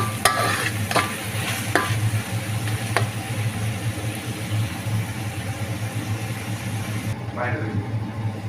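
Meat and chopped tomato are stir-fried in a pan, a continuous close sizzle with occasional sharp scraping strokes of a spatula and a low background hum.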